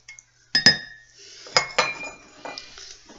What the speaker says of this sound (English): So I'm just going to clean out my cup, do that as well.